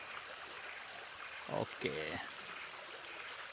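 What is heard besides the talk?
river stream flowing water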